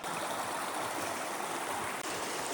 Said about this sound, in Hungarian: alattunk pedig mélyül a patak